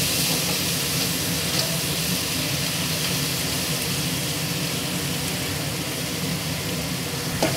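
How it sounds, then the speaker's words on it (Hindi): Prawn khichdi ingredients sizzle steadily while being stirred and sautéed in a pan over high or medium flame, a continuous loud frying hiss with no talk. "चला रहे हैं, इसको अच्छे से सौते कर रहे हैं।"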